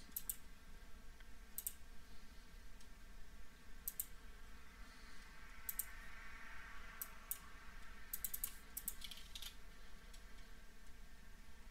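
Sparse keystrokes on a computer keyboard as a folder location is typed in on a PC, short scattered clicks over a steady low hum with no talk.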